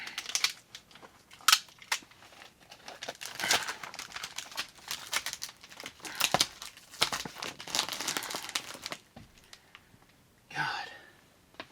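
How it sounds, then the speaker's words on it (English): Adhesive tape is pulled from the roll and torn for a quick repair during a snowstorm. Close crinkling, ripping and rustling bursts come in uneven, busy spurts with a few louder snaps, and a soft voice murmurs now and then. "How quickly can I tape this back up?"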